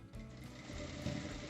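A sewing machine runs steadily, stitching around the lining of a fabric drawstring bag, a continuous close mechanical hum at low volume.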